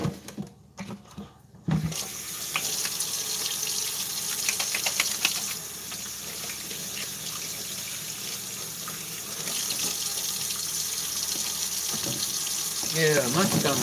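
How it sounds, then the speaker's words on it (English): Tap water runs steadily into a sink while someone washes their hands, a continuous close hiss that starts after a brief moment of quiet and goes on for several seconds. "Let me wash my hands."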